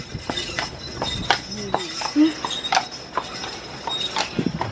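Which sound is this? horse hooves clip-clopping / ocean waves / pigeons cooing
horse hooves clip-clopping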